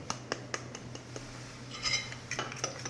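Whisk or spoon clinking against a bowl while flour and cornstarch are mixed into a batter for fried calamari, a quick run of light metallic taps and scrapes, close and moderately loud with a low steady hum underneath.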